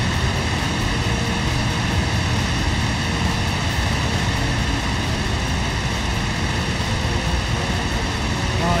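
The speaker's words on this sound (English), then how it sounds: "Got your engine on fire, Ogg." A fighter plane's burning aircraft engine in a combat flight video game, a steady loud propeller-engine drone holding unbroken throughout, with no talk over it.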